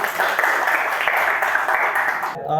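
Applause from a classroom of students clapping for a classmate, a steady dense patter lasting a couple of seconds, moderately loud and close, ending abruptly.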